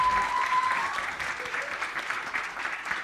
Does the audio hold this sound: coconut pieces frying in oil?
no